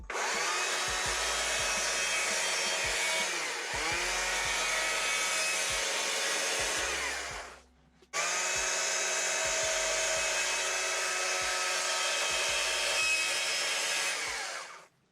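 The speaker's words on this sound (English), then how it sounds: "So let's go around the center with the nose of the saw about 1/4 of an inch in a circle." A chainsaw cuts a shallow circle around the nose-carved center of a wooden sunflower, running loud and steady at high revs for about seven seconds, briefly stopping, then roaring again for another seven seconds.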